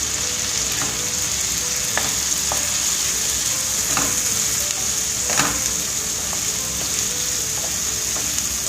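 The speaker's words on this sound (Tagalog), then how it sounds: "Stir and mix." Soy sauce being stirred into a pan of frying egg, potato and tomato: steady sizzling with a few scattered utensil scrapes and clicks, close and continuous, no talking.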